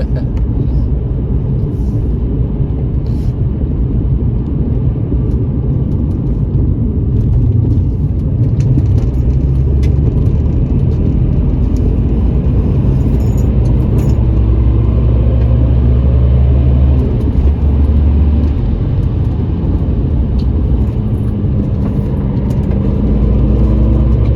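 Lowered BMW E46 on HSD coilovers driving along a road, a steady loud low engine and road rumble droning throughout with no pauses, tyre and suspension noise blended into the continuous hum.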